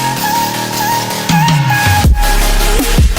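Second drop of an electronic dance track with the percussion cut out, loud synth bass slides and a hovering pad, sweeping tones shifting over a steady sustained layer.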